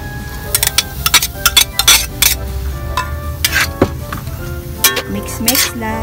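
Pancit bihon rice noodles stirred in a pot of simmering broth, with repeated metallic clinks and scrapes of a utensil against the pot in an irregular rhythm, close by, while a person talks over it.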